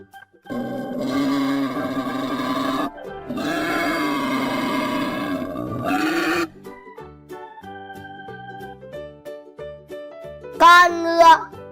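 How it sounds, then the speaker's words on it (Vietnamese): A wild boar calls in loud, rough, grunting bursts across two long stretches, followed by softer background music and a brief high child-like sound near the end. "Lợn rừng."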